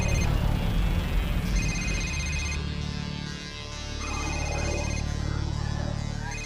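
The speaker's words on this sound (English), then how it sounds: "her phone goes off." A mobile phone rings in a horror film scene, its repeating electronic ringtone sounding over a low, steady rumble of background score, the tone cutting in and out in short bursts.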